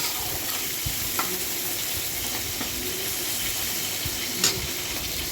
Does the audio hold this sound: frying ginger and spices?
yes